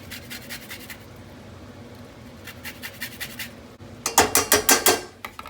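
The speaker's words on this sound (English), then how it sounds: "Zest some of this lemon." A lemon is zested over a pasta dish of linguine with salmon and dill. Soft rhythmic scraping strokes come close up against a low background, ending in a louder, quick run of strokes.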